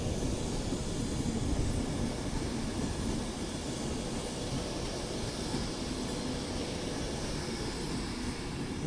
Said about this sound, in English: And down there is another Avanti West Coast Class 390 off to London Euston.